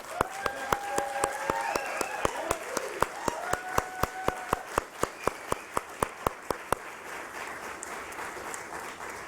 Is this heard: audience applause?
yes